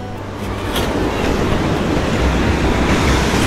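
Surf rolls onto the private beach of a Mandarmani resort in West Bengal as a steady, loud wash of breaking waves, with wind buffeting the microphone throughout.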